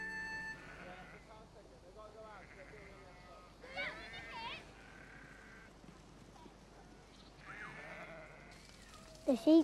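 Cartoon sheep bleat repeatedly while being herded by dogs, several short wavering calls scattered across the scene, with a narrator speaking over them and a sharp louder sound at the very end.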